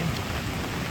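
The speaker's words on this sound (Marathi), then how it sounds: "कारण का पाऊसच लागता आता, तो जबरदस्त पाऊस लागता." Heavy monsoon rain pours down in Mangeli village in the Konkan as a dense, steady roar of falling water, loud and unbroken, with no voices.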